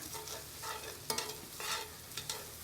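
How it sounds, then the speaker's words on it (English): Paella rice stirred in a pan over a campfire, a quiet sizzle with a few soft scraping strokes of a utensil through the rice. "Stir it all in."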